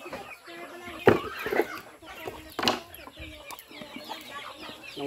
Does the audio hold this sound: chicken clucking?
yes